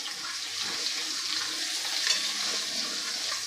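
Spices for udid dal amati frying in a pan, a steady hissing sizzle with faint stirring scrapes running underneath, close and even throughout.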